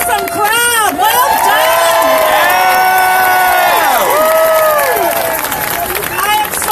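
Large outdoor crowd at the Buffalo March for Science cheering and whooping loudly, a dense roar of voices with shrill whistles and shouts rising and falling throughout.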